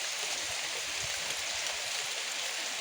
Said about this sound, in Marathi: पडता पाऊस